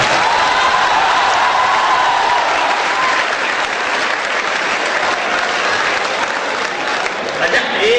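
Sustained applause from an audience at a Hindi comedy poetry gathering (hasya kavi sammelan), a dense steady clapping that fills the hall for several seconds before tapering slightly at the end.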